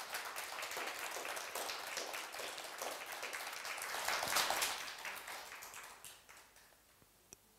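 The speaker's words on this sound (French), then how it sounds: "je vous propose de les applaudir, nos invités de ce soir" Audience applause for the evening's guests at the close of a talk on industrial landscapes and workers' memory, a dense wash of clapping that swells slightly, then thins and fades out.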